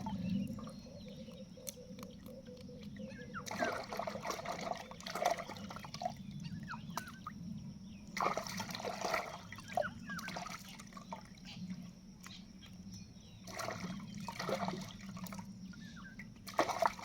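Tap water runs and splashes in a kitchen while freshly cut fish is rinsed clean, a steady low trickle with louder bursts of splashing and dripping near the microphone, no talking.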